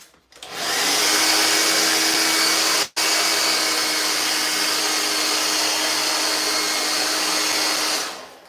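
Hair dryer blowing steadily on a freshly repaired crack in a fiberglass bathtub wall, a loud continuous whoosh that cuts out for an instant near three seconds, then resumes and fades off.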